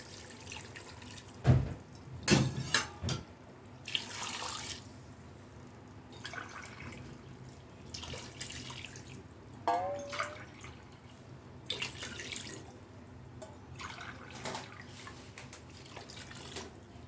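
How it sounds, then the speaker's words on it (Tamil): Water is poured into rice in a pot while biryani is being made, a faint, intermittent splashing and trickling with a few sharper knocks and quiet speech in between. "மூணு கிளாஸுக்கு நாலரை கிளாஸ் தண்ணி சேர்த்துக்கலாம்"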